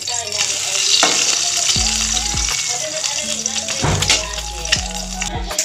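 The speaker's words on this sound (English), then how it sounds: "Because cooking in the pan, which is energy and heat absorbed into the eggs" Eggs sizzle and fry steadily in a hot pan, seasoned with salt, with scraping and stirring clatters throughout and a few brief low tones and bumps.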